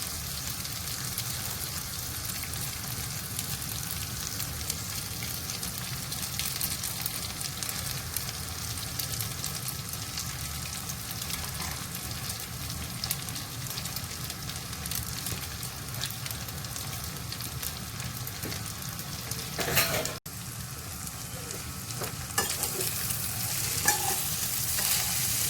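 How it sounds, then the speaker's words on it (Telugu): Semiya vermicelli sizzles steadily in a pan while being stirred, a continuous close frying hiss with scraping movements, a brief louder clatter near the end. "ఇప్పుడు కుక్ చేసుకునే సేమియాని మనం దీంట్లో వేసుకుందామండి"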